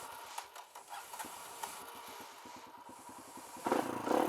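A Kawasaki KLX140 dirt bike engine with a newly installed carburettor sputters and coughs in quick uneven pulses, struggling to start, then catches and rises into louder running near the end.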